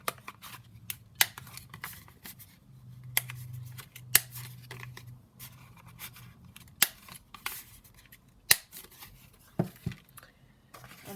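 Scissors snip a paper journaling card to round its corners, giving a series of short crisp cuts and rustles close by in a quiet room, with no talk.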